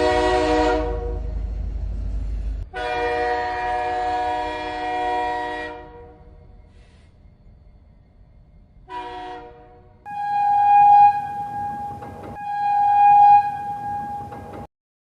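Siliguri Mail train sounds long horn blasts at a cloudy station, several separate hoots with pauses between them, loud and near, with a low rumble beneath and no talk.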